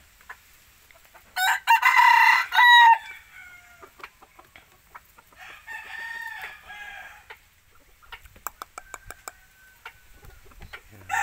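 A red junglefowl cross rooster crows loudly nearby, followed by softer clucking and scattered ticking sounds from red junglefowl cross hens in a quiet setting.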